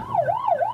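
A police siren wails in quick rising and falling sweeps, about two cycles, clear and fairly close, as officers chase a stolen car that refuses to stop.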